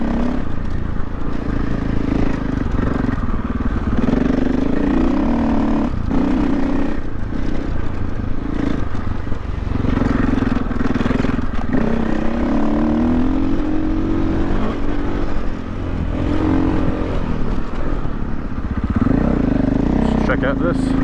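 A KTM off-road motorcycle engine drones steadily while riding a trail, its pitch swelling and easing with throttle under a nearly constant voice talking over it.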